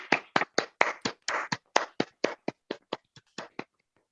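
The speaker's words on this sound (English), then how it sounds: "Please, all of us clap." Online meeting participants at a joint Toastmasters club session clap together, around twenty distinct, crisp hand claps in an uneven rhythm, close and clear with no talk over them.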